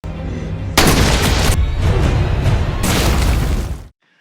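A grenade blast in a film erupts as a heavy, roaring explosion with a rumbling low end, swelling again in a second surge before cutting off into silence.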